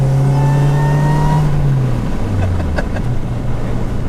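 Supercharged Honda RSX Type S A Spec accelerating hard, engine note climbing then dropping at a shift before pulling again, loud and close with rising whine.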